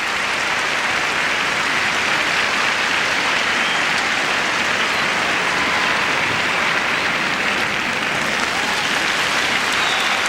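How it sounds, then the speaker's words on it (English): Dense, sustained applause from a large arena audience at a 1998 figure skating gala, a steady wash of clapping that holds at full strength throughout with no breaks. "Very warm applause for Marina Enosina and Gwendal Paisara of France."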